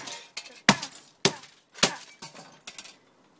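A CD being smashed gives a run of sharp cracking and clattering hits, about six loud impacts of varying strength, close and with no talk.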